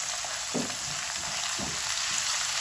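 Ginger garlic paste sizzles steadily in hot oil, a loud, even frying hiss with a couple of soft stirring knocks beneath it.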